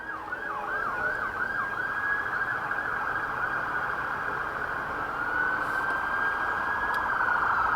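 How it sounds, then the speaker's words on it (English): An emergency vehicle siren wails through a busy evening street near an allotment, its rising and falling tone clear and fairly loud over steady traffic rumble, sweeping past without any voices. "And there's a siren as well."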